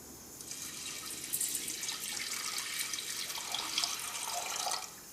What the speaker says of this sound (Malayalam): വേവാൻ ആവശ്യത്തിന് വെള്ളം ഒഴിക്കുക